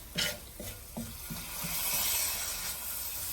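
Ginger and spices sizzle in a hot pan for red lentil dahl, several stirring scrapes at the start giving way to a steady, close frying hiss with no voices.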